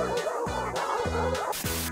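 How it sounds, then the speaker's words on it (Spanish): A street dog barks repeatedly at close range, a quick series of sharp, fairly loud woofs with brief yelping edges, no talk over it. "Cada vez que paso me ladra en la bici."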